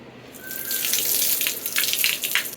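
Shrimp are rinsed under running water and drained: a close, loud rush of tap water with splashing and swishing, fairly steady for a couple of seconds.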